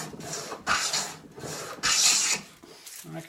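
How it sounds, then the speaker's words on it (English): A hand plane on a tongue-and-groove wood restoration takes full-length shavings in three long, close rasping strokes, each a steady scraping swish with short gaps between, no talking. "I can take full length shavings like start to finish."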